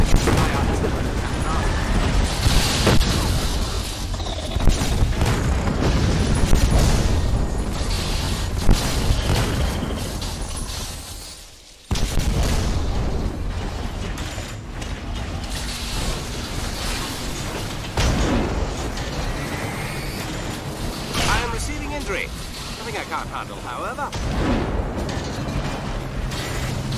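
Artillery fire and explosions in the Iron Brigade video game, a village battle with a dense roar of booms, bursts and mechanical clanking, one brief drop-off midway, and occasional in-game voices over the din.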